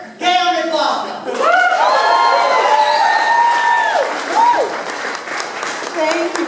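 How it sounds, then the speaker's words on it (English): Crowd at a Green Party of California general assembly claps and cheers loudly, with whoops and raised voices over steady applause, close and lively throughout. "If you're with me, clap 3 times."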